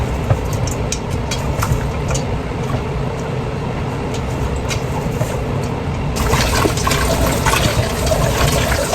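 Chicken feet rinsed under running water, a steady broadband splash and pour that grows louder and brighter partway through, with no talking.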